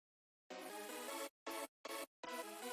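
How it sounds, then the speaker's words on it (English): A lower synth chord layer plays sustained harmonic chords in bursts, cutting off abruptly between sections, with no talking. "sort of like a lower chord layer,"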